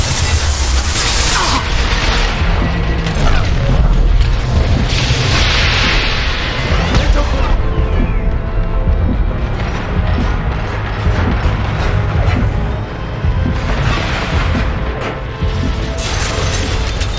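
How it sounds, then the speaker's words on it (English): Continuous, dense roar of explosions, crashes and mechanical clatter in combat in the video game Mass Effect 2 Legendary Edition, loud and sustained throughout with no pauses. "Impending explosion."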